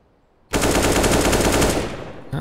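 AK rifle automatic fire in Counter-Strike: Global Offensive, a loud rapid burst of shots erupting suddenly after a quiet start and rattling on for over a second before trailing off.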